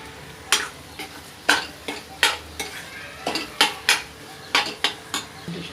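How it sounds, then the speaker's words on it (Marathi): Tomatoes and spices are stirred together in a pan for paneer tawa masala, making a series of rhythmic metal scrapes and clinks. A soft sizzle of frying continues beneath them, with no talking. "आता आपण हे सर्व मसाल्यांना एकत्र चांगलं मिक्स करून घेऊया"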